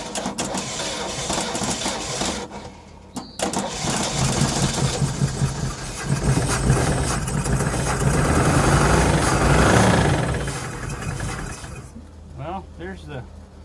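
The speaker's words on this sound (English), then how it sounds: "There's the first start of the Thunderbird." A 1968 Ford Thunderbird with a 429 Thunderjet V8 fires up for the first time in decades, cranking then catching into a loud rough running roar that settles and cuts off near the end, with people talking over it.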